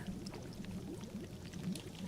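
Water being poured while making water in the survival game The Long Dark, a soft continuous pouring and trickling sound, faint and steady with no talk.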